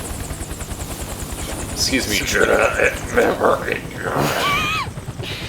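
A helicopter in the Metal Gear Solid 4 video game gives off a steady, chopping rotor thump that runs low and loud throughout, with people talking over it.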